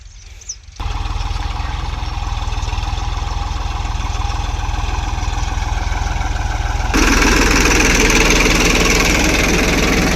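A tractor engine runs steadily throughout with a low, chugging rumble, growing louder and harsher toward the end as it revs or draws nearer.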